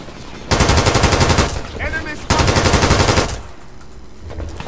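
Rapid automatic gunfire in the video game Brink, two loud sustained bursts with a brief pause between them, followed by quieter game ambience.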